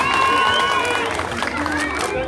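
A crowd at an outdoor prize ceremony for decorated heads claps and cheers for a child, a brief burst of applause and chatter heard under a voice on a loudspeaker.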